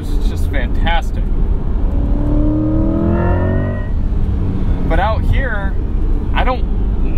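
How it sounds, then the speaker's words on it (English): A 2024 Chevrolet Corvette E-Ray driving on a public road, its engine a steady low drone under continuous talking, with a couple of brief swells as it accelerates. "I don't want to have to be going so fast just in order to hear this engine"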